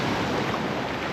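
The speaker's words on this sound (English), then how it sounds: "Face these waves at your own peril" Ocean waves break on the shore at Myrtle Beach, a loud, close, continuous roar of surf with wind buffeting the microphone and no voices.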